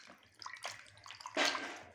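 Raw chicken pieces being washed in a bowl of vinegar water, with a soft continuous sloshing and splashing that swells into a louder wet rush near the end.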